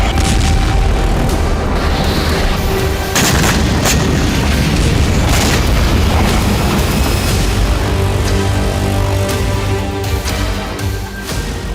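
Israeli air strikes on Syrian air bases, military sites and weapons depots send out continuous loud, rumbling booms and blasts, with heavy low-end roar and dense crackling bursts throughout.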